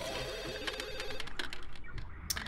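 In The Sims 2, a game telephone rings with repeated electronic trilling bursts over soft background game music and small clicks.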